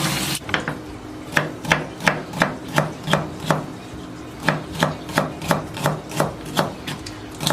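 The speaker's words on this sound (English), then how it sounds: "Chop them up small." A knife chops vegetables on a cutting board, giving clear, evenly spaced thunks in two steady runs of strokes. The chopping is close and alone, with a short break between the runs.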